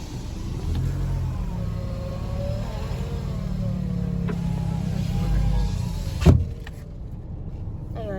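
Cars drive past one after another on a narrow road in Tagaytay on a holiday, a steady engine rumble and tyre noise close by, with a sharp thud near the end.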